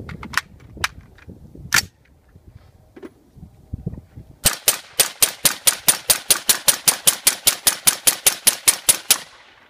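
Suppressed LWRC M6A2 rifle, a few scattered sharp cracks early, then after a short gap a rapid string of about twenty-five evenly spaced, loud close shots.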